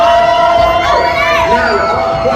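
A crowd of children cheers and shouts together loudly at close range, a continuous bright burst of excited voices lasting a couple of seconds.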